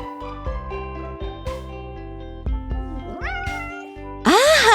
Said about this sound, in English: It's a kitten.